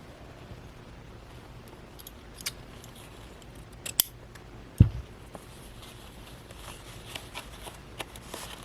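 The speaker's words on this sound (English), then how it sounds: "So I'll go ahead and just cut some of this off." Scissors make faint snips through paper for a junk journal craft project, with sparse quiet cuts and one sharper clack near the middle in an otherwise quiet room.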